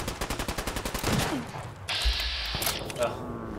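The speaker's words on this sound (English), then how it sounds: "the machine gun turret's on the right now" Rapid bursts of machine gun turret fire in the game Fallout 4, a loud, evenly pulsing volley up front that gives way to a steadier roar of combat noise, with voices talking throughout.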